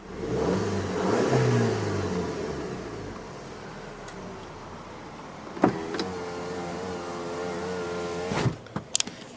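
A 2012 Volkswagen Eos 2.0T engine revs up and holds near its limiter, then settles back, heard close with a few sharp clicks and clunks toward the end.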